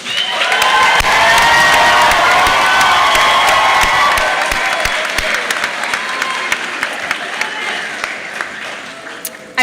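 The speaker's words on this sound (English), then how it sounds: "Let's give our graduates one more round of applause." Loud applause and some cheering fill a hall for Bachelor of Science in Nursing graduates at a commencement ceremony in Tysons Corner, strong at first and then thinning into scattered claps.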